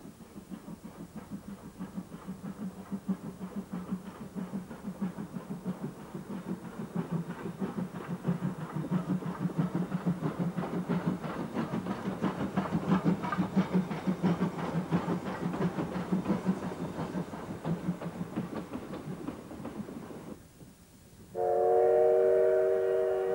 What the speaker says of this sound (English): steam runs at weekends in the tourist season